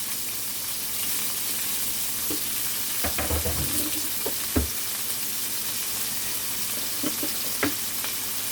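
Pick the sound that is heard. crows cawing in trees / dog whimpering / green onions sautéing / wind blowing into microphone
green onions sautéing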